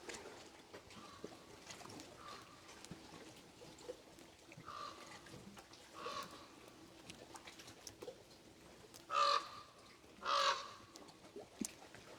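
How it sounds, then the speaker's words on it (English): A raven calls outdoors several times, harsh croaking caws rising out of a quiet, faintly hissing background, with the two loudest calls near the end and softer, more distant ones earlier. "You can hear a raven."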